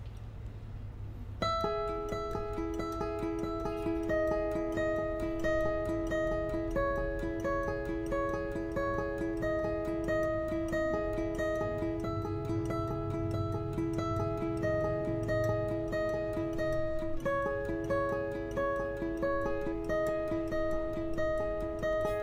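Acoustic guitar picked across strings 1, 2 and 3 in a steady up-and-down pattern, clear, sustained notes ringing close and alone for about twenty seconds.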